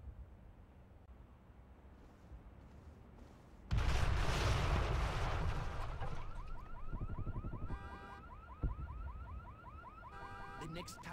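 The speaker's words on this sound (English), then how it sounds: "The next time that alarm goes off, I'm going over there and putting a bullet into the steering column." A car alarm whoops and pulses in a cycling electronic pattern in Splinter Cell Double Agent's Kinshasa mission, preceded by a sudden loud burst of noise and continuing over rumbling background.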